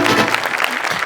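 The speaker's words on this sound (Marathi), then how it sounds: "सगळ्यात आधी अंशासाठी टाळ्या" Applause from a comedy show studio audience for a performer, a dense burst of clapping through the whole short moment with a voice faintly present underneath.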